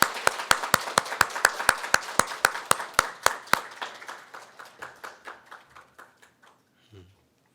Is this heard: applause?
yes